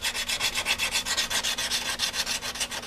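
A motorcycle fairing from an FZR restoration is sanded by hand during repair, with rapid, even back-and-forth rubbing strokes, close and continuous, about seven strokes a second.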